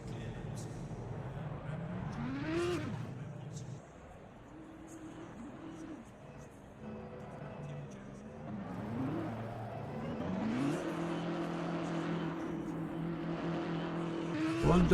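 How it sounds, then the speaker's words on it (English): BMW race car doing donuts in a racing video game, with engine notes rising and falling in repeated revving sweeps over a steady, fairly quiet rumble. "One BMW off doing donuts."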